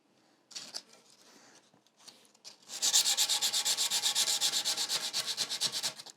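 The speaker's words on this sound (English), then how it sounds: "Sanding is never the most glamorous part of the job," Sanding the wood of a lightweight guitar body by hand, with a few scattered rubs, then a rapid steady back-and-forth scraping rhythm that is close and fairly loud.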